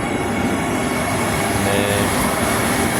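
A Vande Bharat superfast train with six AC coaches and automatic doors pulls away, a steady loud rolling rumble and hiss throughout, with a brief spoken word.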